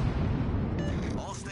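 Naval guns fire at a target in a Battleship video game, a continuous deep rumbling boom of heavy shots under a spoken command.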